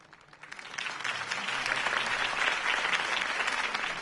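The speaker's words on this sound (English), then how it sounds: "could have heard that applause" A video game crowd in the Batman Telltale Series breaks into applause, swelling quickly into sustained, dense clapping that continues at steady volume.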